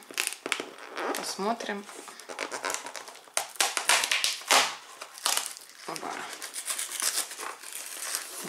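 Cardboard box of Clean & Fresh All in 1 mini dishwasher tablets being opened, with crinkling, tearing and tapping of packaging, near and moderately loud, under a person talking.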